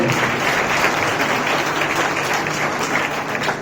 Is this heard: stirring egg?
no